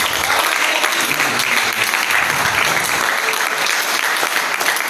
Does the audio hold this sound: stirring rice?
no